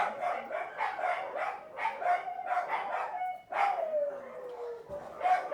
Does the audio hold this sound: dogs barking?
yes